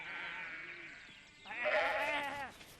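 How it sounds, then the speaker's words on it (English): Sheep being rounded up on a farm bleat in wavering, quavering calls, one fainter and then a louder, fuller bleat, heard fairly close with no talk. "Old Pop often has to round up the sheep and get them into a pen."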